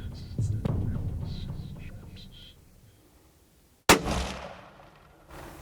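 A single sharp rifle shot cracks out during a Texas buck hunt, loud and close, followed by a decaying rumble. Hushed voices murmur beforehand.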